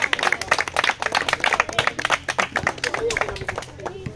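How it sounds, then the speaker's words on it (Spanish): Quick rhythmic clapping from a crowd at a Spanish-language freestyle rap battle semifinal, steady and fairly close, with voices talking and calling out over it. "¡Un aplauso, por favor!"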